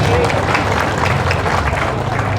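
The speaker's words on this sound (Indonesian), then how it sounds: "Tepuk tangan untuk kita semua." A crowd applauds at an Islamic religious talk on brotherhood, dense continuous clapping filling the hall, loud and sustained, with voices mixed into it.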